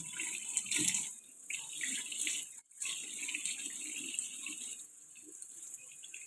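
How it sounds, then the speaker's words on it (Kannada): Tap water runs steadily into a sink while someone washes their face, a continuous close splashing hiss with a brief break midway and no talking. "ಈಗ ಫೇಸ್ ವಾಶ್ ಮಾಡ್ಕೊಳ್ತೀನಿ"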